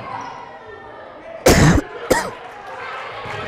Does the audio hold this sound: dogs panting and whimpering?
no